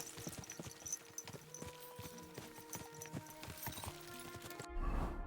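Horse hooves clip-clop at a steady walking rhythm in Kingdom Come: Deliverance 2, moderately close, with faint game ambience underneath and a swell of sound at the close.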